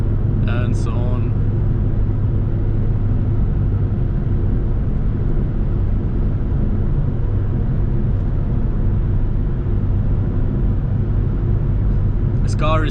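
A BMW 325xi E46 touring's engine drones steadily while driving, a constant low rumble with road noise heard from inside the cabin, and brief voices at the start and end.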